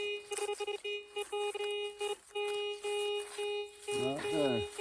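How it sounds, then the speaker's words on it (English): A metal detector sweeping near an old chimney site in the Southern Appalachians gives repeated steady electronic beeps in short on-off bursts. A voice comes in near the end. "Let me turn this machine off here so you don't hear that beeping going on."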